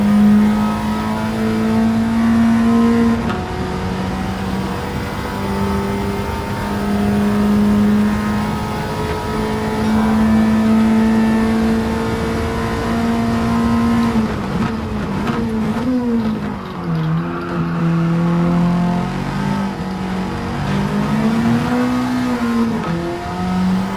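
An Alfa Romeo 4C (2014) engine roaring at full throttle on the Road Atalanta track in Gran Turismo 7 for a long stretch, rising and falling pitch as it shifts and corners, loud and continuous.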